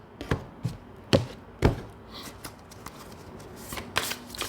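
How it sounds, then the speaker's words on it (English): Tarot-style cards being shuffled for a reading, a series of crisp riffles and taps, close and fairly quiet, with no one speaking. "If you're curious about why I shuffle the way I shuffle, ask me in the comments below."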